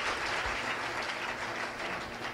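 An audience at a Bhaktmal Katha gathering in Shri Agrasen Bhawan, Lohia Nagar, Ghaziabad claps to welcome donors, giving dense, steady applause that fills the hall evenly from start to finish.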